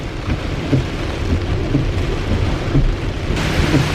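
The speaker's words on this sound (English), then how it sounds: "we've got rain here at South Park" Rain falls steadily at South Park while thunder rumbles low through the downpour, a loud continuous wash of drops with deep rolling swells and no voices.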